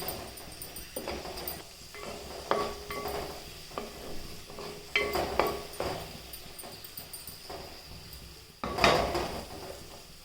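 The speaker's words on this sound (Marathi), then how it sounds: "कांदा घालून घ्यायचा कांद्याला चांगलं परतून घ्यायचं" Chopped onion fried with cumin in a pan for a drumstick-flower vegetable dish, stirred with a utensil: soft sizzle underneath with scattered scraping and clinking knocks against the pan, close by, no talking.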